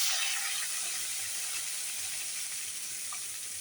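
Curry leaves frying in hot oil for upma, giving a steady, close sizzle and crackle that fades slightly over a few seconds, with no voices.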